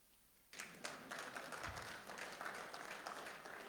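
Church congregation applauding wives during a Father's Day service, with sustained, dense clapping that breaks out suddenly and fills the room steadily to the end.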